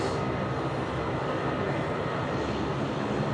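A Jetstar Airbus A320 jet airliner at Sydney Airport gives off a steady, broad roar of engine noise at moderate distance, constant and unbroken with no talk.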